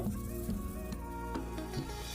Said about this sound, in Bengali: ক্যাপসিকামটা একটুখানি আমি ভাজা ভাজা করে নিচ্ছি